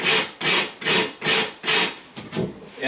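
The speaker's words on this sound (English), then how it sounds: "a drywall rasp does a really nice job of just shaving off" A hand drywall rasp shaves the edge of a drywall patch in six steady back-and-forth strokes, a close, dry rasping scrape with short pauses between passes.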